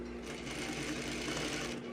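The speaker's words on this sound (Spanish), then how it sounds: "Ahora vamos a sujetar la vista en cintura y en costado con una costura de medio centímetro." Sewing machine stitching a half-centimetre seam to attach a facing at the waist and side of a garment, a steady close motor hum with rapid needle chatter running continuously, no talking.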